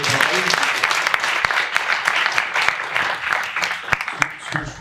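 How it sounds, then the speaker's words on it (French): A seated audience at a talk on women in bicycle mechanics claps for the speakers, a sustained wash of applause with sharp individual claps standing out, lasting a few seconds. "je crois qu'on peut les applaudir sur la prise de parole"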